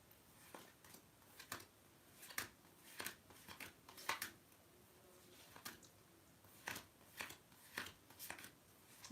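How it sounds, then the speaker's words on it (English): Tarot cards shuffled and drawn from a deck, a steady series of soft papery riffles and slaps, close and quiet, with no talking over them. "I'll draw a card for next month, for October then as well"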